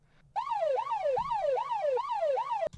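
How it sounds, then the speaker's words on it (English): A police siren wails in rapid repeated up-down sweeps, loud and close, starting suddenly and cutting off abruptly near the end. "And then I added this police siren."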